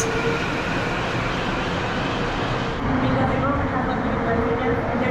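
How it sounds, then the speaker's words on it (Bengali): Steady, loud rumble of a Mexico City metro train in motion, a continuous roar of wheels and carriage noise that shifts slightly partway through. "মেট্রো করে যাচ্ছি"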